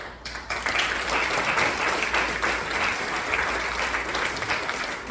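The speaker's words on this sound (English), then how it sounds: "We get a round of applause for." An audience at a housing talk breaks into a round of applause, a loud, steady wash of clapping that builds and holds for the whole stretch.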